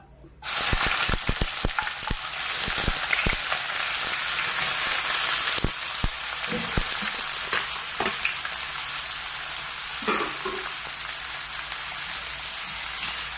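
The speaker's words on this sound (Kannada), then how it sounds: "ಉಳ್ಳಾಗಡ್ಡಿಗೆ ಸ್ಲೈಸಾಗಿ ಕಟ್ ಮಾಡಿಕೊಂಡು ಇದು ಒಳಗೆ ಹಾಕ್ತೀನಿ" Sliced onions fry with a steady, dense sizzle in a pan for pepper chicken, loud and close throughout, with scattered crackles and stirring clicks and no talking.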